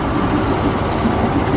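The Argo Parahyangan passenger train near Bandung station, a loud, close, continuous rumble of rolling railcars with a steady low roar and no speech.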